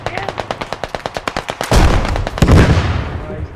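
A vehicle-mounted gun in the military shooter Squad fires a fast, steady burst of about fifteen loud, evenly spaced shots, followed by a heavy explosive boom and a rumbling tail.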